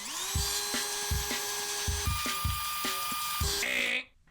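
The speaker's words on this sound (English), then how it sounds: "I got this piece of hard steel that you should not use drill bits on." A 1970s Craftsman drill bit bores into a piece of hard steel, giving a loud, high metallic whine over a steady run of rhythmic grinding pulses for about four seconds before it suddenly stops.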